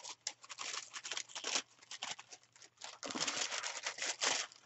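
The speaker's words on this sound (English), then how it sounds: "So let's put these back in the bag." Crinkling plastic bag as teapot kit items are packed away, continuous close rustling and crackling in uneven bursts, fairly quiet, with no talk.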